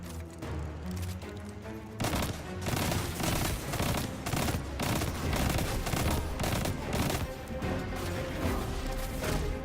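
Rapid gunfire from Destiny 2, a loud continuous burst of closely spaced shots with dense impacts running for several seconds after a brief quieter opening.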